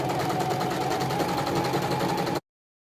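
A sewing machine runs steadily while stitching a half-inch double hem on a flat bed sheet, a continuous close whirring buzz with rapid even needle rhythm that stops abruptly after a couple of seconds.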